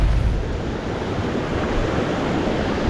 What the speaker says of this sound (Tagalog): Andito na tayo sa Kamang River.